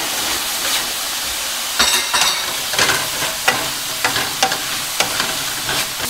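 Mushrooms stir-fried in a pan for a pepper beef short rib dish sizzle steadily, broken by sharp scraping and tossing strokes every half second or so, close and fairly loud with no talk.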